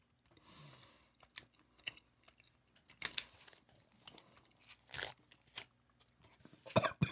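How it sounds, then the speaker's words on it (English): Sour Punch ghost pepper candy is bitten and chewed close to the mic, with scattered loud crunches and wet chewing bursts separated by short pauses, and no speech. "Gotta chew it up."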